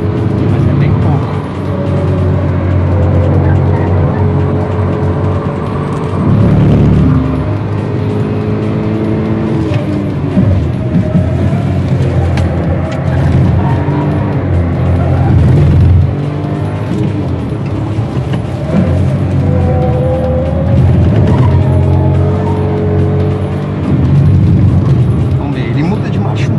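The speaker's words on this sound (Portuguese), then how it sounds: "ele muda de marcha um pouquinho antes, mas bem pouquinho" Hyundai HB20 Turbo car engine accelerating and shifting gears, a loud steady drone rising and dipping at gear changes across the whole stretch, with people talking over it.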